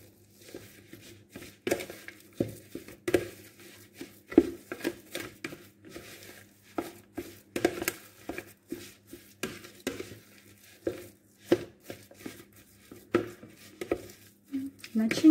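A spoon mixes an eggplant stuffing of herbs, salt and pepper in a bowl, making soft, irregular scraping and squelching taps that come close and fairly quiet, with occasional louder knocks against the bowl.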